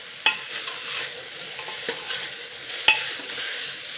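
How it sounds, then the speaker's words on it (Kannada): Vegetables with oil, chilli powder and dried fenugreek leaves being fried and stirred in a pan for a tarkari gojju, with a steady soft sizzle and a few sharp spoon scrapes and clicks against the pan, close and without talk. "ಇದೆಲ್ಲ ಸ್ವಲ್ಪ ಫ್ರೈ ಮಾಡ್ಕೊಳ್ಳೋಣ."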